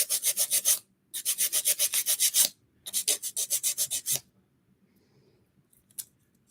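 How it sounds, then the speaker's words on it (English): Nail file rasping under a fingernail in quick rhythmic bursts of short strokes, three runs of about eight to ten scrapes each, close and crisp, then near silence with a couple of faint ticks. "I have to file under the nail."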